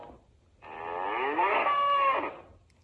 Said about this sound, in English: cattle, cattle,